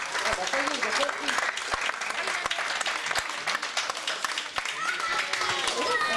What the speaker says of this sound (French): Allez, encore, on l'applaudit un peu plus fort